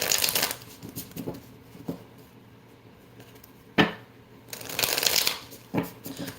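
Tarot cards are shuffled in a few brisk riffling bursts at the start, middle and end, with quieter handling and a sharp tap between them.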